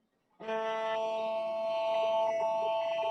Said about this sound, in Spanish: uno de los cuencos suena así